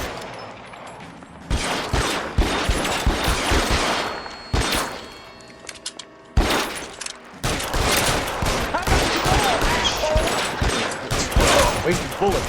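In a shootout in the video game L.A. Noire, bursts of rapid gunfire crack in loud, sharp volleys separated by brief pauses, with a sustained barrage over the final several seconds.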